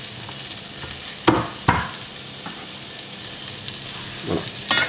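Chorizo frying with onions and garlic in a pan, a steady close sizzle broken by several sharp stirring scrapes and clacks of a utensil against the pan.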